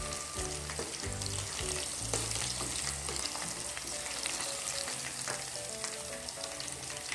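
Chicken 65 pieces fry in hot oil with a dense, continuous close-up sizzle and crackle throughout, with no voices.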